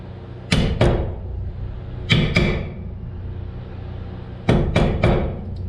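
Pairs of sharp metallic strikes from a brass hammer beating on a chainsaw scrench ring out close and loud, three double blows in all, each with a brief ringing decay.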